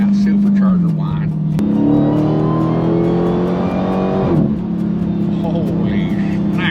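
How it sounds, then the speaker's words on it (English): A 1000-horsepower Dodge Demon 170 accelerates hard, its engine rising steadily in pitch with a supercharger whine layered on top, loud and close from inside the car, then dropping back to a lower drone. "I wonder if you can hear that supercharger whine"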